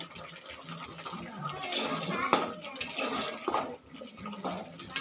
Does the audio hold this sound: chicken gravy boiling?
yes